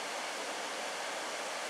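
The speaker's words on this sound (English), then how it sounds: "there's a nice little waterfall at the end" A small waterfall where the Crow River meets the Petawawa in Algonquin Park gives a steady, broad rushing roar, constant and moderately loud with no break.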